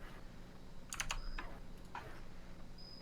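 Computer keyboard typing, a quick cluster of sharp key clicks followed by a few scattered taps, faint against a low background hum.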